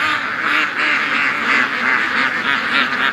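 Ducks on a small charity duck-raising homestead quack steadily and loudly at chore and feeding time, a dense, continuous flock chorus of overlapping nasal calls close by with no one speaking.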